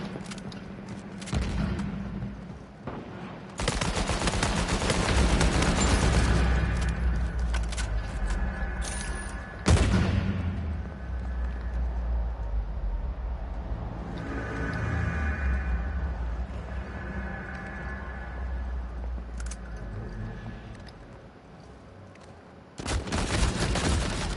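Gunfire in the Uncharted video game: sustained bursts of automatic shots rattle loudly, break off briefly, then resume in long stretches with scattered single cracks in between.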